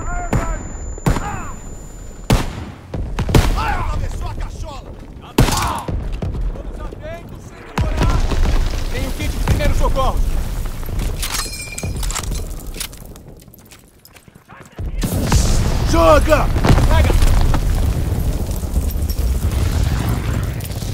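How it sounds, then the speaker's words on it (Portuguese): Artillery and gunfire in Call of Duty WWII during a beach landing assault, heavy booming blasts and sharp cracks repeating throughout, with soldiers shouting over the din. "Essa artilharia vai nos matar!"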